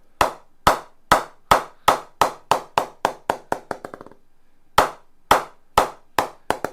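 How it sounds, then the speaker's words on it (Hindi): Sharp wooden taps from a hammer striking a cricket bat land in a steady rhythm, speeding into a quick fading roll, then after a short pause more evenly spaced taps resume, close and crisp. "बैट का पिंक दिखा रहा हूँ हैमर से, ऑलरेडी 3 टाइम प्रेस हो रखा है। आवाज सुनिए आप,"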